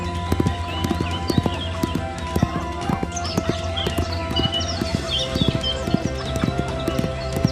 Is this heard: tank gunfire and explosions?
no